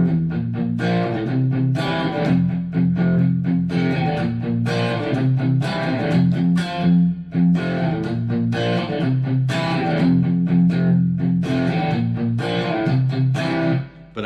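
Distorted electric guitar plays a song with steady rhythmic strummed chords, loud and continuous throughout, no voices.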